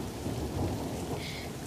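Heavy rain pours steadily in a dense broadband roar, with a low rumble of thunder rolling underneath throughout.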